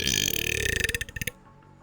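A person lets out a single long, rattling burp, loud and close, that pulses rapidly before cutting off abruptly.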